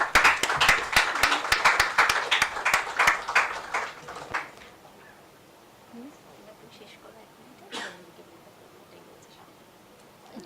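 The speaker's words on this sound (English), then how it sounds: "it deserves a lot of claps, really." Audience clapping at an academic conference, a burst of fairly close, distinct claps from a modest group for about four seconds that quickly dies away into quiet room noise with a few faint knocks.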